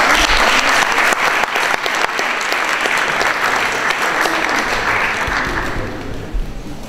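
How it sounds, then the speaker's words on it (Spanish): Audience at a stage performance applauds the Rapa Nui dance group Copu Baikaba with loud, sustained clapping that fills the full stretch and eases slightly toward the end. "y los recibimos con un fuerte aplauso"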